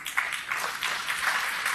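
Crowd applause, a dense steady patter of many hands clapping at moderate distance, with no talking.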